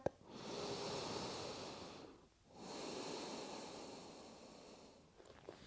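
Two long, slow deep breaths during a yoga flow, each a soft airy inhale or exhale lasting about two seconds, close and quiet, separated by a short pause.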